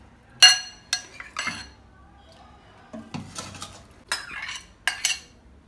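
Metal utensil clinking and scraping against a pot while a beef nihari mixture is stirred, with several sharp clanks in irregular bursts separated by brief quiet gaps, close and fairly loud.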